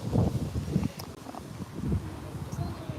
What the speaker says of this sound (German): Sonne ist da, aber es windet wie verrückt.